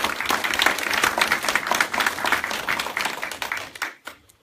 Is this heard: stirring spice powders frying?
no